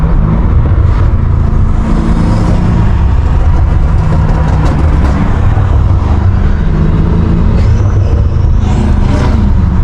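A BMW M5 Competition's engine rumbles on backroads, a loud, steady low growl with throttle swells and shifting tone, close and continuous for ten seconds.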